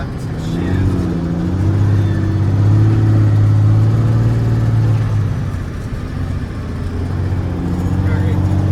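A farm vehicle engine drones and revs high during a soybean harvest, a steady close hum that swells and eases, with voices talking over it.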